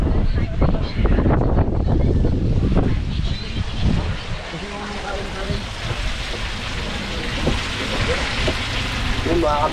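Wind and rain from Typhoon Goring in the mountains of Dilasag, Aurora, a continuous rushing wash with gusty buffeting on the microphone and scattered clatter, with a voice heard faintly under it.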